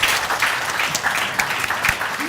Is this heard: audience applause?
yes